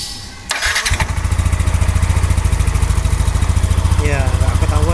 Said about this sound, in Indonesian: Penulis nyalakan mesin dulu.